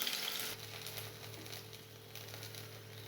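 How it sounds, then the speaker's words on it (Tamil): Shallots and garlic fry in hot cooking oil for sambar rice, a soft, continuous sizzle that starts slightly louder and then settles over a low steady hum, with no talking. "எண்ணெய் காஞ்சதும் நம்ம சின்ன வெங்காயத்தையும் பூண்டையும் சேர்த்துக்கலாம்."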